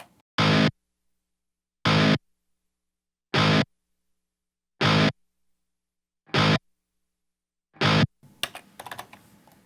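Heavily distorted guitar plays six short, evenly spaced chord stabs with soft, rounded onsets and no pick attack, separated by silence, followed by faint handling noise.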